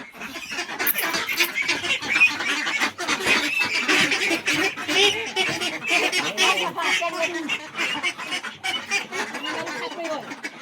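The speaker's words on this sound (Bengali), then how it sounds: "এখানে দেখো এখন হাঁস ধরা হচ্ছে হাঁস কাটার জন্য" Ducks squawking and honking loudly in agitated bursts as they are caught for slaughter, with people talking over the commotion throughout.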